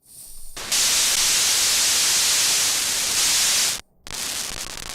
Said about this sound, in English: That's literally just white noise at this point.